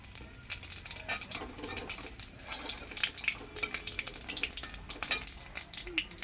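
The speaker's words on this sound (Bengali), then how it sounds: "আর দিচ্ছি কয়েকটা সাদা জিরে ফোড়নে" Whole cardamom, cinnamon, cloves and cumin seeds sizzle in hot oil as a tempering for a fish and potato curry: a steady, close hiss with scattered sharp crackles and pops throughout, and no voices.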